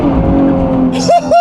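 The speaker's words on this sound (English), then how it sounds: "I'm gonna do a launch off the line here for you." A 2024 Nissan Z NISMO launching off the line in Sport Plus: a loud close engine drone, then a brief rising rev and a pair of sharp swooping shifts near the end.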